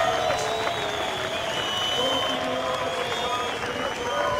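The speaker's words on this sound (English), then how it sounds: "the Portuguese crowd is erupting for their man" Portuguese crowd at a Rip Curl Pro surf contest in Portugal roaring steadily with cheers, whoops and applause, a dense, loud wash of voices held throughout at dusk.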